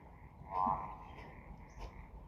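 A frog croaks faintly, a single short call rising out of quiet background noise in a home yoga session, with a softer sound following later.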